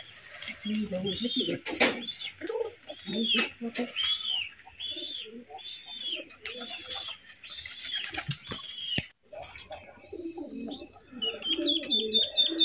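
Pigeons on a pigeon farm, feeding on rice, coo repeatedly in soft, overlapping murmurs throughout, fairly close, with a brief rustle and faint chirps near the end.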